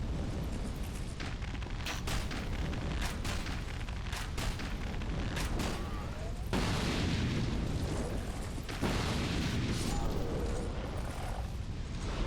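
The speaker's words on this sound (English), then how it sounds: "He was hitting, with his fire bombs, he was hitting the ladder that we were at." Fire bombs in the video game Dark Souls II blast again and again in a dense, loud run of booming bursts and crackling debris that continues almost without a break.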